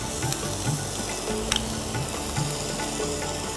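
Coriander, cumin and garam masala paste fries in a pan with a steady, close sizzle and crackle, broken by a few soft stirring scrapes.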